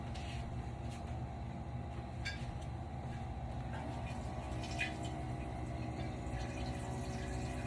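Water running steadily from a tap or pump into a container for a drink, a continuous gurgling flow at moderate level with a few faint clinks, no talking.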